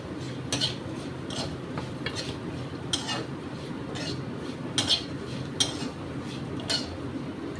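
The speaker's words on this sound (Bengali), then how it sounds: "চিড়েটা ঘিয়ে দিয়ে দিলাম। ভালো করে ভাজবো।" Flattened rice (chira) frying in ghee for rice pudding, heard as a steady soft frying hiss with repeated light clinks and scrapes of a spoon stirring against the pan.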